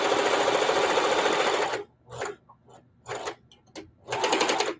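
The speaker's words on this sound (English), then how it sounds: "Even though I'm back stitching, I'm going to flip this over and double sew this." A sewing machine back stitching fabric, running in a close, loud continuous burst, then a few short stop-start stitching bursts, and finally another sustained run.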